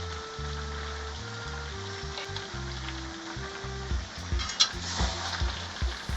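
Fish head and Malabar spinach frying in a pan as turmeric is stirred in, a steady sizzle with scraping stirs toward the end and faint background music.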